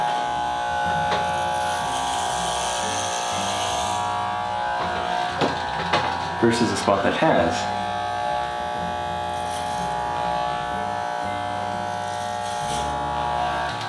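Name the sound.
electric hair clippers cutting hair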